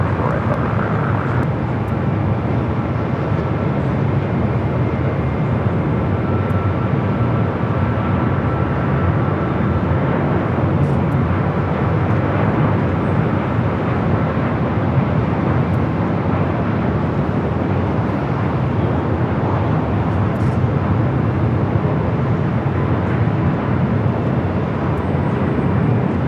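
A Spirit Airlines airliner moving at Los Angeles International Airport gives off a steady, loud broadband jet roar that holds without a break for the whole stretch, with no voices over it.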